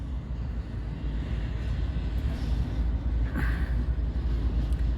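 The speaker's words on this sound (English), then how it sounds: "this train has officially come off the C&W main and onto the Transcon line" Freight train crossing from the C&W main onto the Union Pacific Transcon line, a continuous low rumble and rolling roar with faint metallic squeals, steady and fairly loud.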